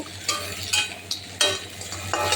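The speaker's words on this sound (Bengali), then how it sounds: "এবার দিয়েছি সেই কাঁকড়াগুলো। এবার নেড়ে চেড়ে" Crab pieces and fried potato chunks stirred in a pan with a spoon, a few separate scraping clatters with a faint sizzle between them.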